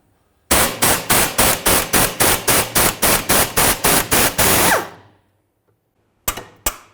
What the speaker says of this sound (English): Now we'll use a 15mm socket to remove the nut.